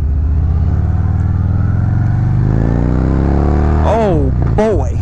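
A 2019 Harley-Davidson Fat Bob with the 114 engine rumbles on the road, the engine note climbing steadily as it accelerates, with a voice speaking over it near the end.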